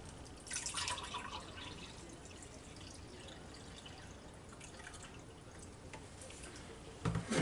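Organic apple cider vinegar pours steadily from a bottle into a measuring cup in a home kitchen, a soft continuous liquid trickle with a brief louder splash near the end.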